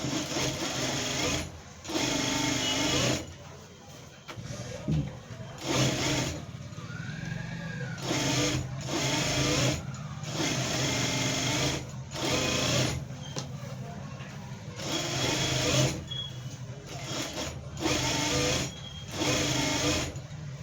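A sewing machine stitches blouse piping in loud, close bursts of rapid mechanical whirring, repeatedly starting and stopping with short pauses between runs.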